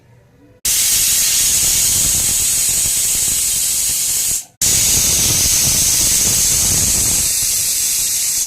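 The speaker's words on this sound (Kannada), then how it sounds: "ಹಾಕ್ಬಿಟ್ಟು 3 ವಿಸಿಲ್ ಕೂಗಿಸ್ಕೋಬೇಕು." Pressure cooker with spices, tomatoes and water releasing its whistle, a loud steady hissing jet of steam that cuts off briefly then resumes, close and sustained, no talk.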